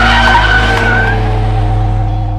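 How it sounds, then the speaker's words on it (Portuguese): Car tires squeal loudly through a curve, a sustained high screech over the engine's roar that holds steady and slowly fades. "você entrou numa curva e o carro cantasse o pneu"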